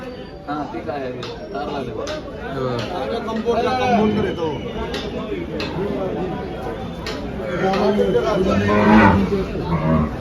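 Several Gir cows moo repeatedly at a cattle market, some near and some farther off, over a busy background of people chattering.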